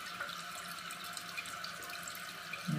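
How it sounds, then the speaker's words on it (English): A toilet tank refills after a flush through a newly fitted Korky universal heavy-duty replacement handle, a steady hissing rush of water running continuously and fairly quietly. "You can flush it, and then"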